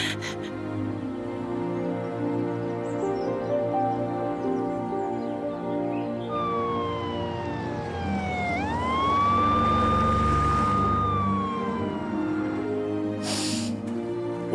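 A siren wails in, sweeping up and falling in a long tone that swells louder as it draws near. Underneath is a steady rumble of street noise, with no talking during the wail.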